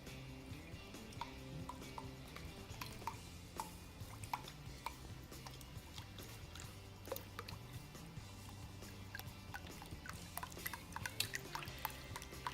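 Beef broth pours from a 2-cup measuring cup into a Dutch oven while a smoked deer roast is being prepared. The liquid makes a faint, continuous trickling splash with scattered drips throughout.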